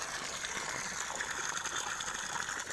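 Water gushes steadily from the outlet of a solar-powered borewell pump set about 550 feet deep, a continuous rushing splash with no breaks, close and moderately loud.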